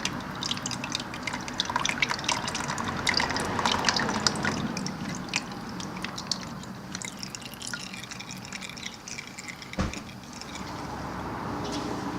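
Motor oil dripping and trickling from the oil filter cover of a Honda VT250FG motorcycle, a faint continuous wet patter with one sharper drop near the end.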